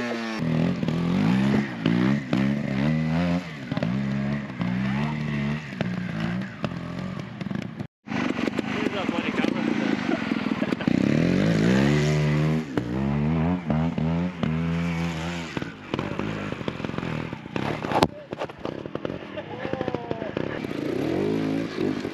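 A trials motorcycle climbs an obstacle with continuous close-up engine revving that rises and falls in sharp bursts, throttle blips repeating throughout and a brief cutout midway.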